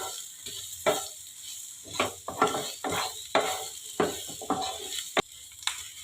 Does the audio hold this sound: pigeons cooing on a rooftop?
no